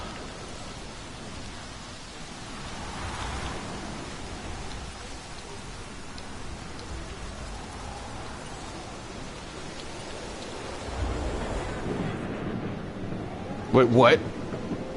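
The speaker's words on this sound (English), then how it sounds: "It's just a light storm." Light rain hisses steadily through a storm in Jurassic World Evolution, with a low rumble building in places, and someone briefly speaks near the end over a short burst of louder noise.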